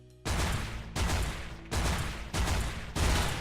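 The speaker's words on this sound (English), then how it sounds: "This gun fires in a 2-round burst" A PDW gun in the Minecraft Techguns mod fires five loud, evenly spaced bursts, each about 0.7 seconds long, with no talk.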